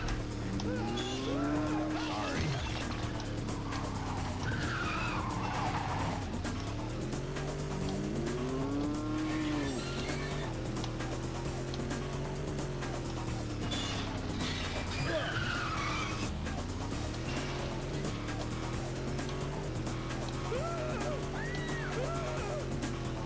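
A race car in the video game Carmageddon speeds continuously with a steady whining engine drone that rises and falls, repeated tire squeals and skids, and a voice talking over it at times.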